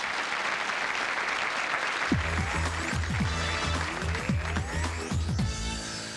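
A TV studio audience applauding a departing show guest: applause swells from a murmur into dense, steady clapping that carries on to the end, with musical tones beneath.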